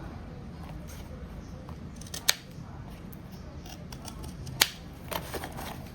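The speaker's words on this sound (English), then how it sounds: "So I am going to trim up any places that slipped." Scissors trim the fabric seam of a sewn duffle bag, a couple of sharp, close snips standing out from a quiet room hiss, with a few softer cuts following.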